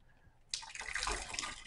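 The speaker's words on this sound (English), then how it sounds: "rinse the diode with some distilled water" Distilled water is squirted over a pH meter electrode, a short, faint splashing spray that starts suddenly after a moment of quiet.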